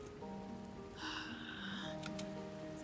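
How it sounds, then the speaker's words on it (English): Rain falls in the video game Grimshire, a soft, steady patter of drops that stays faint and constant throughout, with light musical tones drifting over it and no speech. "The rain falls upon my fur."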